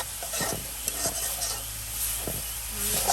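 Leafy greens (shak) being stir-fried in a pan for a village Bengali meal, with a steady sizzle under repeated scraping strokes of a spatula, close and moderately loud.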